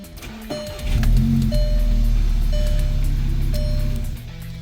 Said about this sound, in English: Car sounds the same pretty much on idle